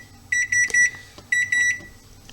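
A kitchen timer beeps during a homebrew beer boil in two bursts of three short, high electronic tones, loud and close, with a brief pause between bursts.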